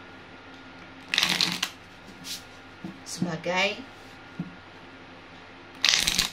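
Tarot cards riffled and shuffled in quick bursts, with a drawn-out flutter in the middle and short taps as cards are picked, close up, with brief speech.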